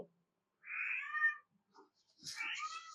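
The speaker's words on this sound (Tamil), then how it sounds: "கத்துதுங்க. பூனை குட்டி தான்." A kitten meows in two drawn-out, high cries about a second apart, close and fairly loud, with faint rustling in between.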